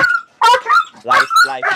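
Police canine barking in loud, rapid repeated bursts during a sheriff's raid, close by and sharp, with a handler shouting commands in between.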